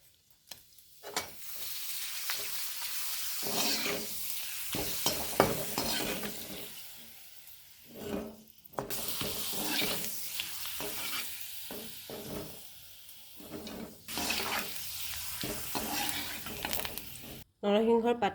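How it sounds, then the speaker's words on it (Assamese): Papad frying in a pan, a steady sizzle with stirring scrapes that drops away and returns in bursts, close and moderately loud, with background talk at times. "ইয়াৰ পাছত মই পাপৰ কেইখন ভাজি লওঁ।"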